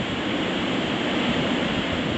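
Storm-driven ocean waves surging against the rocky Vancouver Island shore: a loud, continuous roar of churning surf and spray filling the air, with no voices over it.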